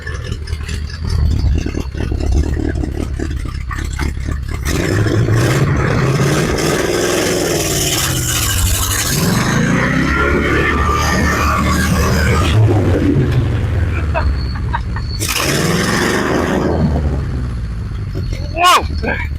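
An abandoned 1970s Ford F350 truck runs with a rough, clattering engine that rises and falls as it strains to move, with people talking over it throughout.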